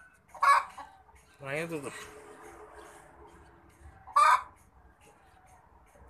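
Chickens cluck and squawk near a cow pen in a couple of short sharp bursts, with a person speaking briefly between them.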